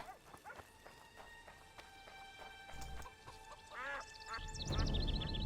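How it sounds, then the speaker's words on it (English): Ducks quack in The Witcher 2: Assassins of Kings video game, a few short quacks scattered over quiet ambient game sound, with a louder burst of busy activity toward the end. "Duck, duck, duck, duck. Quack, quack, quack."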